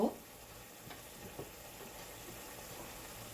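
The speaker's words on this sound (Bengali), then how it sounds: "মশলাটাকে কষিয়ে নিব" Ground spices with chili and coriander sauté gently in oil for a rui fish and bitter gourd curry, a faint, low hiss with occasional soft stirring.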